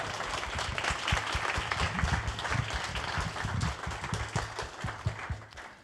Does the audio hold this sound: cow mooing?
no